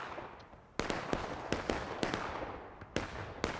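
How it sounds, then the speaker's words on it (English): Cannon fire in a Civil War battle video game rings out as a series of sharp, booming blasts at irregular intervals, each followed by a short rumbling decay over a low background din. "I think he's a little late to this cannon shot."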